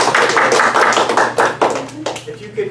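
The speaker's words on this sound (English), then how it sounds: "You're actually clapping for Kathy" A short burst of clapping from a small group, uneven claps fading out within a few seconds, with a voice speaking over it.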